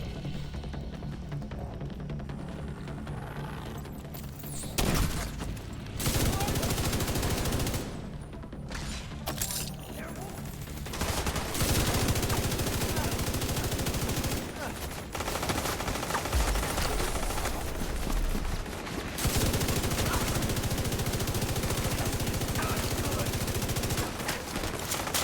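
Rapid automatic gunfire in The Division 2 video game, with long loud bursts broken by brief pauses and a voice heard between volleys.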